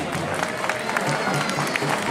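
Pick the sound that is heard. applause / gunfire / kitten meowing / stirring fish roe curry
applause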